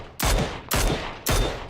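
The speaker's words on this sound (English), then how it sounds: "I realized he's shooting me" Three loud, evenly spaced gunshots ring out in PUBG, each a sharp crack with a short decaying tail, with no talking.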